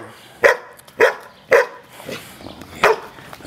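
A dog barks in a series of sharp, close woofs, four loud barks spaced about half a second apart with softer yips between, then one more bark near the end, no talking.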